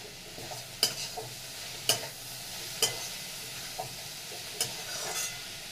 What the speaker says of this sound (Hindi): तो चलिए दाल को मिला देती हूँ उसी में और थोड़ी देर फ्राई कर लेती हूँ।